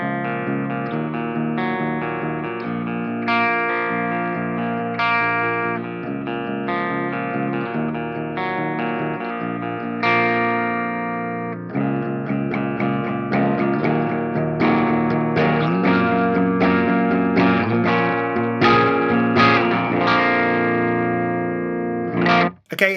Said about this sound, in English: let's try out the dirty channel of this amp